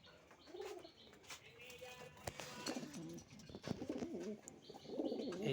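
Pigeons cooing as a male and female are paired, with soft repeated coos and chirps close by and a brief flutter of wings, and no talk.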